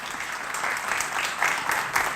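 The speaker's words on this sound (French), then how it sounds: "Je vous demande de l'applaudir très fort, Monsieur Philippe Dujardin" Studio audience applause welcoming a television host onto a show, a steady, fairly loud wash of clapping from many hands throughout with no break.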